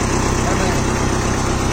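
A VST Sakthi MT 270 DI Virat 4WD mini tractor engine running at about 2000 RPM in low second gear during turmeric harvesting, a loud, close, steady mechanical drone with a voice talking over it.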